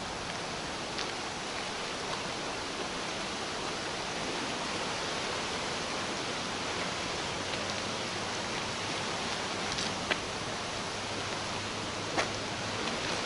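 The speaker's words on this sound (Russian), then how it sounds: "Вот это сама река. Вот это течет она мимо Куйбышева" The flooded Belbek river, swollen past its banks, flows with a continuous, even broadband rush of water, steady and fairly loud, with a couple of faint clicks and no talking.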